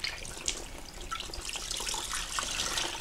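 Water splashes and trickles steadily as washed clothes are wrung out by hand after an off-grid plunger-style wash, a close, continuous liquid sound with small drips.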